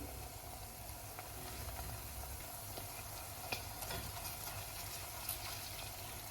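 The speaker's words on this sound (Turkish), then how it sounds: "Salçaların da kokusu çıkana kadar biraz kavuralım." Tomato and pepper paste roasting in a pan for an okra and chickpea dish: a low, even sizzle with a couple of faint spoon taps, quiet and continuous, without talk.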